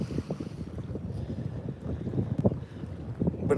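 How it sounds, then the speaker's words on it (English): Water sloshes and laps near a creek bank outdoors, a continuous low churning wash with soft irregular splashes, mixed with gusty wind noise buffeting the microphone. "you can hear waves just like if it was at the ocean, sloshing back behind me there"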